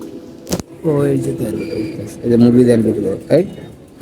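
Racing pigeons kept as military birds coo up close in two or three throaty, rolling phrases, with a couple of sharp flaps or knocks between them and no talk.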